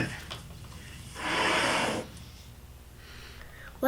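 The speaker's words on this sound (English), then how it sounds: "Here's a leopard sound." A leopard gives a single breathy, rasping hiss-like exhale lasting under a second, loud and close, set against quiet background.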